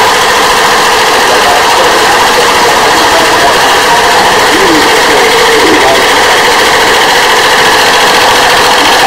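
A Braille printing machine driven by a three-phase AC motor and a DC stepper motor runs loudly and steadily, a dense continuous mechanical whir and hum with a constant drone throughout.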